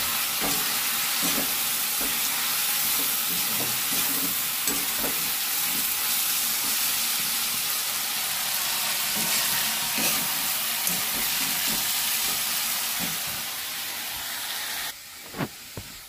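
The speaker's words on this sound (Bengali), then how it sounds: "এখানে আলু ভাজা হচ্ছে" Potatoes fry in a pan with a constant close sizzling hiss, broken by occasional soft clicks and stirs, steady throughout before a brief quieter stretch at the end.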